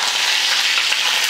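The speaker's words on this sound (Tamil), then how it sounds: "எண்ணெய் காஞ்சதுமே கொஞ்சம் கடுகு உளுந்து சேர்த்துக்கலாம். கடுகு பொரிஞ்சதும் வரமிளகாய்" Steady bright crackling and sizzling of mustard seeds popping in hot oil, close and continuous with no voices.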